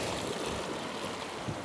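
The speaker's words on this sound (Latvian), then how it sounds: "Vajag noliet to lieko ūdeni nost." Excess water poured off after rinsing a sink, a steady broadband splashing and trickling rush that continues evenly throughout with no speech.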